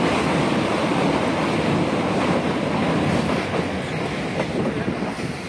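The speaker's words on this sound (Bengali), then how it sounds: "এই যাত্রাপথে ট্রেনটি পোটে নদীর ব্রিজ ক্রস করে।" A train rolling over the bridge across the Pote river, a loud continuous rumble and rushing roar with faint clicking of wheels on rails, steady and close throughout.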